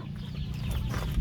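Hens clucking at a rural farmyard, a steady stream of soft, overlapping clucks close by with low background rumble throughout.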